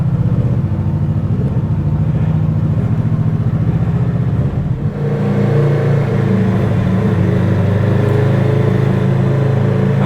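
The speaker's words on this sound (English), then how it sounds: "Oh, that exhaust." A Honda VFR800F motorcycle under way, its exhaust giving a loud, steady, deep engine drone throughout, with a brief dip midway before the note returns with slightly more rasp, close and alone with no talking.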